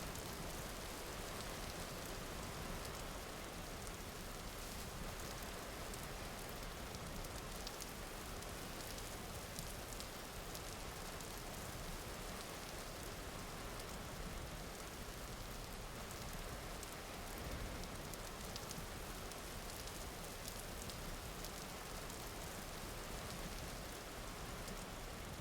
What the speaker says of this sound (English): through here is the place where rain stops happening